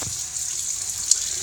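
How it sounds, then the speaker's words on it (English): Warm tap water running steadily into a kitchen sink, a close, continuous hissing splash with no voices. "So we have tap water here."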